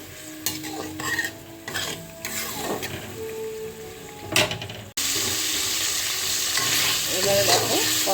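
Chilies fry in oil in a pan for a pabda fish curry: light clinks and scrapes of stirring over a soft sizzle, then an abrupt, loud, steady hiss takes over and continues to the end.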